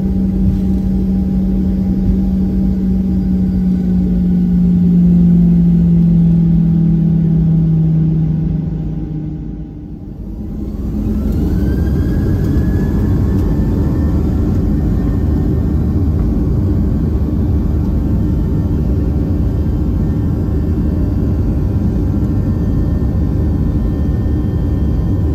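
An Alaska Airlines jet airliner taxis on the runway, its engines giving a loud, steady rumble with a low droning tone that drops away, then a rising whine as the engine note climbs and holds.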